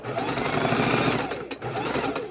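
A longarm quilting sewing machine stitches steadily and loudly at close range, its rapid needle chatter continuous apart from a brief dip midway.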